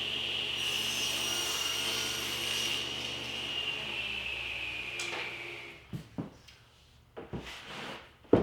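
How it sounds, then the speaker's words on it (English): A saw rips strips from 1/2-inch plywood, a loud, sustained whining cut that winds down midway, followed by several scattered knocks and handling clatters as the strips are moved. "I'm going to get started by ripping strips of 1/2-inch plywood at 1 inch."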